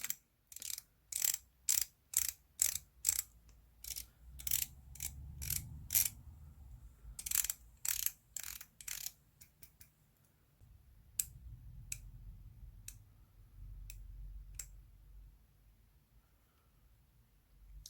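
A 60-click watch bezel on a Rectangula Monster homage is turned in quick runs of crisp, snappy ratcheting clicks, close and clear. The bursts come in rapid series with short gaps, and sparser single clicks follow over a quiet low hum.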